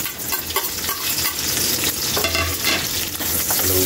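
Onions hit hot oil that has already browned garlic, giving a loud, continuous close sizzle with stirring scrapes and brief crackling bursts throughout.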